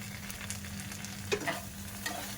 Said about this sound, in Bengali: দিয়ে ভালো করে মিশিয়ে নেব আলুর পুরটা